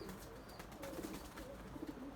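Young white pigeons coo softly in low, repeated throaty phrases against a faint background, with no voices present.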